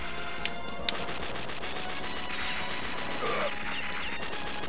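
Gunshots in the video game Metal Slug: rapid, fairly faint bursts of arcade gunfire with a couple of sharp cracks, running steadily under a busy game soundtrack.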